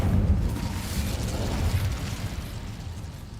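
A fire spell cast in Hogwarts Legacy erupts as a loud, sustained roaring blast, dense low rumble holding steady for several seconds with no talk over it.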